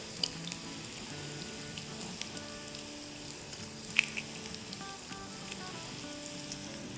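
Whole cumin seeds, dried red chilies and onion sizzling in hot oil, giving a steady, fine crackle with scattered pops and a few sharp spits, close and fairly quiet, with no talking.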